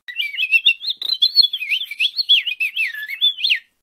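Purple finch (Haemorhous purpureus) singing a rapid, continuous warbling song of rising and falling chirpy notes for several seconds, close and clear with no other sounds.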